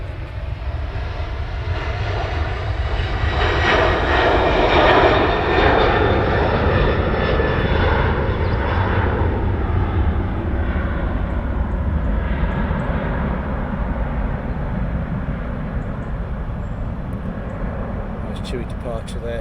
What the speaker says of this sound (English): Now you're going to get some runway takeoff shots.